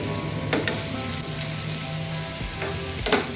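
Mixed vegetables frying in a pan, giving a steady dense sizzle throughout with a few brief stirring scrapes and knocks near the end, close and even in level.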